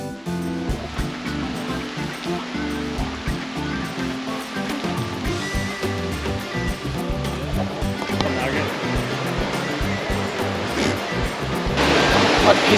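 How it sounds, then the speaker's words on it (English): River rapids beside a campsite in Chichester State Forest, a dense continuous rush of churning water filling the scene, steady and loud, swelling slightly louder toward the end. "camping next to that river rapids"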